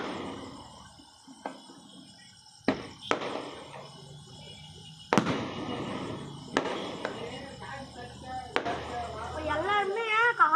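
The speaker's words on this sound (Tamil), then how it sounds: "ஊசி வெடி இது மாதிரி தான் எடுக்கிறாங்க" Needle firecrackers burst in sharp cracking pops, one at a time at irregular intervals, some loud and close, over faint background noise and occasional distant voices.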